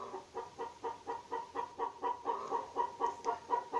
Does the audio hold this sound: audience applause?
no